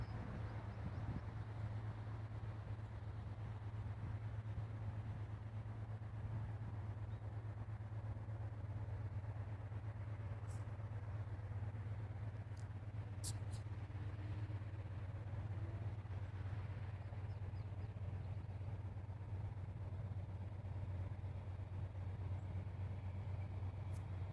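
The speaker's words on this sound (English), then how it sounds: "But he's a train and he's coming." A slow CN mainline freight train rumbles steadily from a distance, its heavy working diesel engines droning low and constant with a few faint clanks on top.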